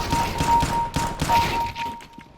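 Video game gunfire: a quick run of loud, close shots in an uneven burst, fading into quieter trailing pops as a steady electronic tone hums underneath.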